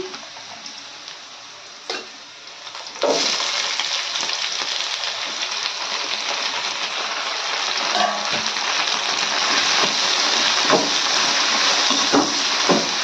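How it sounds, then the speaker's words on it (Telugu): Ivy gourd, carrot, green chillies, tomato and potato fry in a pan with a steady, close sizzle that swells after a sudden onset, with occasional stirring clicks and no talking. "దొండకాయ క్యారెట్ పచ్చిమిరపకాయలు బాగా వేగిపోయి కదా ఇప్పుడు మన దగ్గర ఉన్న టమాటాలను బంగాళంతో కూడా ఇందులో వేసుకున్నాము"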